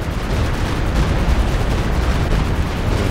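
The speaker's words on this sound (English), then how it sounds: "Stuka barrage though, and now he's dodging back." Stuka rocket barrage in Company of Heroes 2, a dense, continuous rumble of overlapping explosions and distant blasts holding steady and loud throughout.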